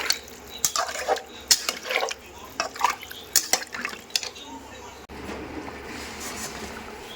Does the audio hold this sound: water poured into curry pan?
yes